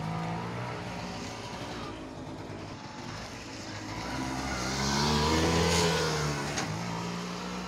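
An auto rickshaw engine drones steadily while driving, rising in pitch and loudness as it accelerates mid-way and then easing slightly, with road noise underneath.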